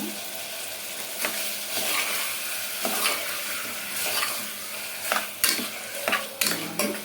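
Ginger garlic paste sautéing in a hot pan for mutton curry, constant sizzle broken by scraping stirs and several sharp knocks of the spoon against the pan, no voices.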